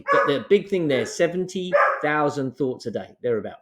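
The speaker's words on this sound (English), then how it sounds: "Excuse my dog in the background." A dog barks in the background of a room while someone talks continuously in the foreground, its barks mixed under and between his speech.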